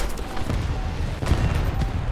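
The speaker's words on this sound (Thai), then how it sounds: "ทิ้งระเบิด" In the War Thunder video game, bombs dropped from a bomber explode as a dense, rumbling barrage of heavy booms that stays loud and continuous throughout.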